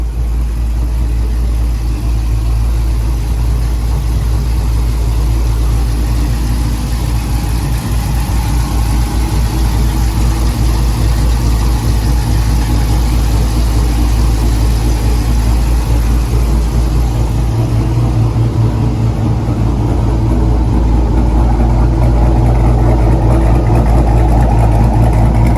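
A Mopar car engine idles with a lopey, uneven rhythm, loud, steady and close, running alone for the whole stretch with no talking.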